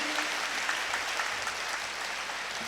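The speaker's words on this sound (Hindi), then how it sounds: "तालियां बजाइए" Audience at a Brahma Kumaris spiritual class applauding an honoured speaker, a steady, even wash of many hands clapping at moderate distance throughout.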